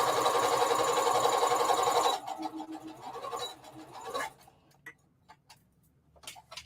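A sewing machine runs a steady, rapid stitch along a seam of a circle dress for about two seconds, loud and close, then stops, leaving softer clicks and handling noises.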